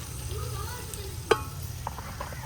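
Whole spices and crushed dry coriander being stirred and fried in a pot for white pulao, with a soft steady sizzle under low rumble and a single sharp clink of the spoon against the pot midway.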